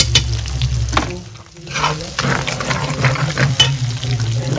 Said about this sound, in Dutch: Eerst de eieren bakken.